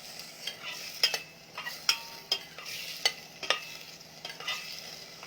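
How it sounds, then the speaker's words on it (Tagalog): Garlic and onion sauté in a hot pan for salmon-head paksiw, a steady sizzle broken by repeated sharp scrapes and clinks of a utensil stirring, fairly close with no talk. "gisa-gisahin ko lang muna to yung bawang sibuyas"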